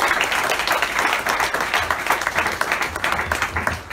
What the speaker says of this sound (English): let's give Megan and David another round of applause